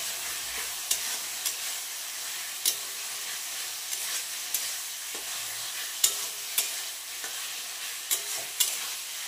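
Liver sautéed with lightly fried onions in a pan: a steady close sizzle broken by regular spatula scrapes and knocks against the pan, with no voices.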